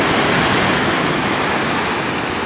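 Ocean surf in the late evening at the North Bay of Imsouane, Morocco, heard as a loud, continuous broadband wash of breaking waves and rushing water with no voices.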